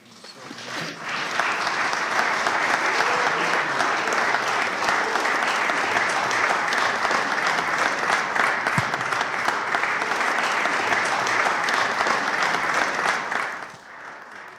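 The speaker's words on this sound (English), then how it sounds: "Give her a wonderful hand clap." An audience at a conference gives sustained hand clapping that swells in within a second, holds loud and dense for about twelve seconds, then fades out.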